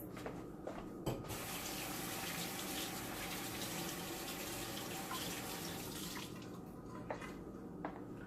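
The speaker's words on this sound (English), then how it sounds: "I'm gonna wash off the eggs" Kitchen tap water runs steadily into a sink while eggs are washed under it, a constant close rushing splash with a few small knocks and shifts in the flow.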